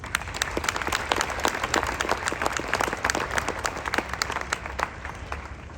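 Sustained crowd applause fills an Army AIT graduation ceremony for 68W combat medic soldiers at Fort Sam Houston, dense steady clapping from a large audience with a low rumble underneath, no speech over it.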